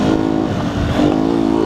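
A 2019 Beta 125 RR S motorcycle ridden off-road over jumps, its engine revving loud and close with a steady, buzzing drone throughout.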